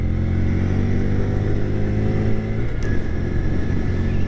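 A 2025 Honda Grom motorcycle engine held at full throttle in fourth gear while climbing a steep back road. The drone is loud, close and steady, then sags slightly in pitch partway through as the bike slows.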